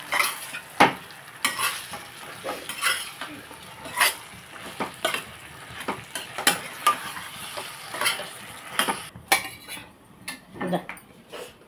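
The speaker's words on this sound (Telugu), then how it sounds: "శుభ్రంగా కలిపేసుకుందామండి." A spoon stirs tomato curry in a pan, scraping and clinking in irregular strokes over a soft sizzle, fairly close and with no talking.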